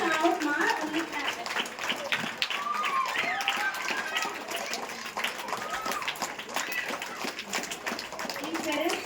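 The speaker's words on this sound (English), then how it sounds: "Don't shout, ma, only clap." Sustained clapping from parents gathered at a school prize-giving ceremony fills the room, a continuous rattling applause heard beneath an adult voice speaking nearby.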